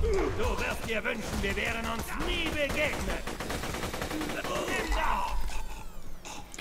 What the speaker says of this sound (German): das ist so eine Waffe, die schneller wird, je länger ich schieße